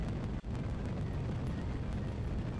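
An AJ-10 rocket engine fires in Kerbal Space Program, a steady, fairly quiet broadband roar that holds evenly throughout with one brief dip near the start.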